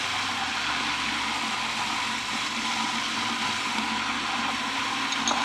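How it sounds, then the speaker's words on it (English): A blender whirs steadily as it purées sofrito ingredients with apple cider vinegar, olive oil and salt, a continuous close, even, liquid churning roar with no pauses. "And just let that blend."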